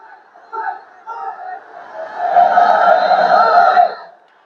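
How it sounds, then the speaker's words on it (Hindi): Outside a police station, a crowd of voices shouts slogans in a swelling, rhythmic chant that builds to a sustained loud roar before cutting off. "लोग नारेबाजी करते रहे।"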